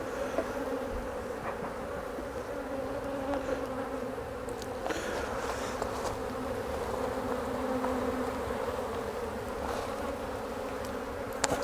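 A steady swarm of honeybees drones around open hive frames near the super, a constant close buzz with occasional faint clicks and handling sounds and no talk.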